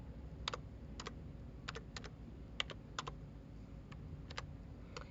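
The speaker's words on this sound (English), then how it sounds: "I'm going to go ahead and type that in" Password being typed on a computer keyboard: scattered bursts of key clicks, sometimes single and sometimes in quick pairs, over a steady low background hum, close and moderately quiet.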